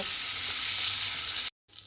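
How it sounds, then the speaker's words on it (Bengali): Shrimp frying in a pan of oil, a steady dense sizzle that runs loud and unbroken, then cuts to silence before a faint return. "মাছগুলো আমি উল্টিয়ে পাল্টিয়ে হালকা করে ভেজে নিয়েছি।"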